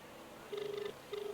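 An outgoing telephone call rings back with two short electronic tone bursts separated by a brief gap, thin and moderately loud over a faint background hiss.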